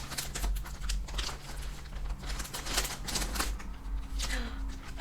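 Scissors snip through fabric in a sewing studio as a series of short, crisp cuts in an uneven rhythm, with a faint voice in the background.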